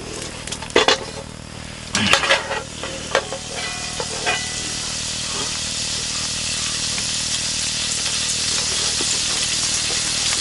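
Sliced home-pickled cucumbers sizzle in a hot frying pan, a steady loud hiss broken early by a few sharp stirring clatters and pops, then settling into continuous frying.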